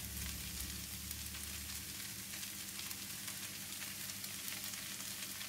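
Shredded cabbage and carrot stir-fry in a pan for spring roll filling, giving a faint, even sizzle with light crackling and a low hum underneath, and no voices.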